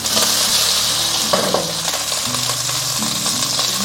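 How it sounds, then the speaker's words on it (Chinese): Shrimp sear in hot oil over low heat in a pan, a steady close sizzle with a few light metallic taps and a low hum underneath, no talking. "我们下入虾仁，小火煎"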